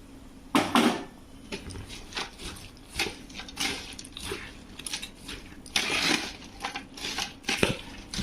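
Fried cashews and raisins are stirred into a boondi laddu mixture, giving irregular close clacks, scrapes and soft crunches of the spoon against the pan in short bursts, without speech.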